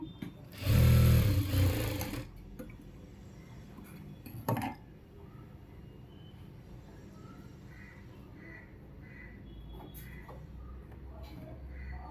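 A sewing machine stitches slippery fabric in one short, loud burst near the start, then the room falls quiet apart from a faint background hum.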